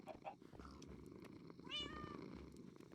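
A cat meows in the Minecraft video game, a short rising harmonic call near the middle of a quiet ambient game soundtrack, moderately clear and alone without talk.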